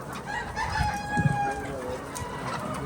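A rooster on a farm crows nearby in a drawn-out call among other clucking chickens, with a louder burst partway through.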